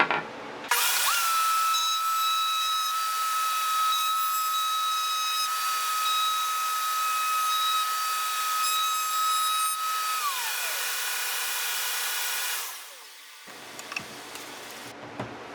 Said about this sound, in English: I've changed the router bit to put a little detail on both the bottom and the top of the base.